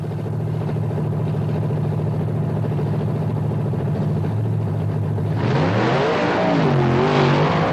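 Monster trucks Bigfoot, a Ford, and the Prowler race on a beach course, their engines roaring loud and close: a steady heavy rumble that suddenly surges into rising, wavering revs as both trucks launch.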